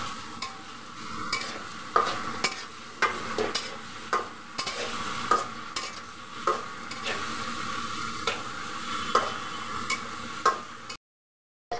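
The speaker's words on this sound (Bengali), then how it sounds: "এখন আমি পেঁয়াজগুলোকে একটু ভেজে নেব।" Chopped onions fry in hot oil in a pan, a steady sizzle broken by regular scraping stirs about once a second, close and clear, before the sound cuts out abruptly at the end.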